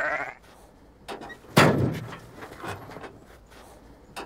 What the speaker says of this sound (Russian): я так понимаю, это ваша коза?